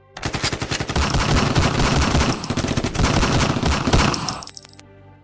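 Soldiers' guns fire nonstop in a gunfire sound effect: loud, dense automatic bursts roll on for about four seconds, then cut off abruptly.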